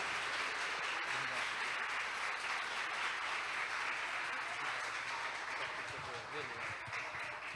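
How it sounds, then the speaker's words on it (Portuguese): A church celebration audience breaks into sustained applause, dense even clapping that fills the room at a steady level from start to finish, with faint voices mixed underneath. "Uma salva de palmas para"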